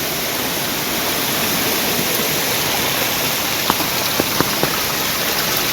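A monsoon waterfall in Konkan pours in a dense, steady hissing roar, close and unbroken throughout, with a few faint clicks late on.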